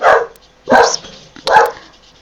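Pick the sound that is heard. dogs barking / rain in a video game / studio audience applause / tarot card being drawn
dogs barking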